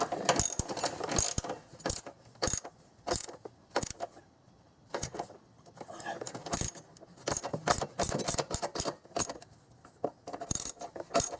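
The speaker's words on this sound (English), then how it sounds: "You can just hear the crunchiness in the bolt." Repeated crunchy ratcheting of a rusty bolt being turned while installing Westin running boards on a 2001 Infiniti QX4, loud close bursts of clicking in uneven runs with short pauses.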